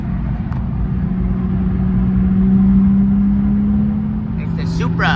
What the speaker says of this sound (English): Let me downshift a gear here.